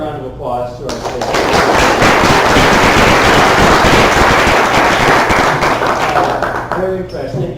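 A debate audience gives a loud, sustained round of applause that swells and holds for several seconds, with a voice heard briefly before and after the clapping.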